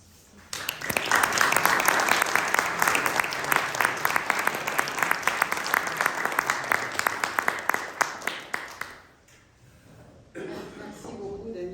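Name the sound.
audience applause after lecture introduction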